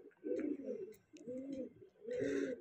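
Close pigeon cooing, three low throaty coos in a slow rhythm with soft rustling between them, no talk.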